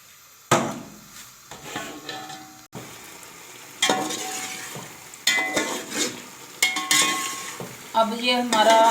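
Cooked chicken korma being scooped from one pot into another, with repeated metal spoon scrapes and clanks against the pots and a soft background sizzle, close and fairly busy throughout.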